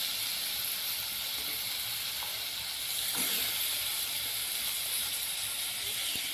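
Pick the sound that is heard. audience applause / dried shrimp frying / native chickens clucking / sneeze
dried shrimp frying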